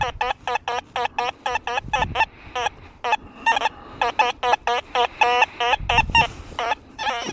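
XP Deus 2 and Nexus V3 metal detectors giving iron target tones, a rapid run of short clipped chirps in a quick, uneven rhythm, loud and close, with brief low rumbles of handling noise between them.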